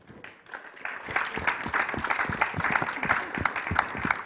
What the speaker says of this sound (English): Please give them a very warm welcome, a big round of applause